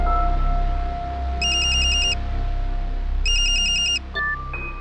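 A telephone rings in two bursts of an electronic ringtone, loud and close over a steady background hum, before a short tone as the call connects.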